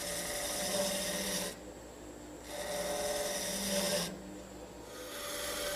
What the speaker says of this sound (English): For this cove, I'm switching back to an even smaller gouge.